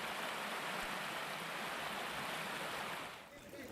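Fast, swollen river floodwater rushing in a steady broadband roar, loud and continuous, easing slightly near the end; a voice may be faintly present beneath the torrent.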